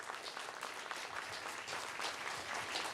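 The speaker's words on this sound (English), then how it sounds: "A huge round of applause for everybody." Steady applause from an audience fills a room at a chamber of commerce business recognition breakfast, a dense even patter of many hands at moderate distance for the whole stretch.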